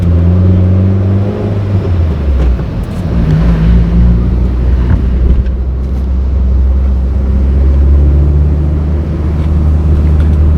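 A motorcycle engine with a loud aftermarket exhaust idles and runs steadily, a deep throbbing drone with slight revs, close and very loud, with wind buffeting the microphone.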